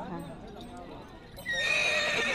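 A horse neighs at the Bac Ha livestock market in northwest Vietnam. The loud, shrill whinny rises midway through and rings out over murmuring market voices and background bustle.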